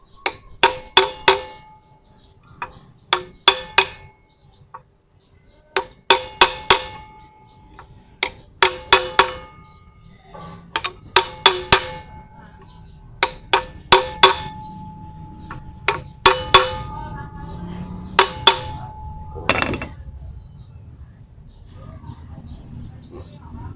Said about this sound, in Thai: ตอกเข้าไปให้สุดเลย